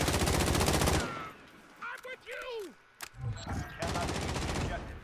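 Gunfire in a video game rattles loudly in rapid bursts at the start and end, with a player's voice talking in the quieter middle.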